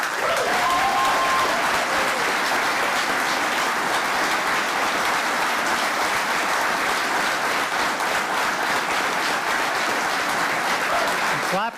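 Sustained, dense audience applause at a public announcement on an energy partnership, steady and loud for about twelve seconds with a faint voice briefly audible early on.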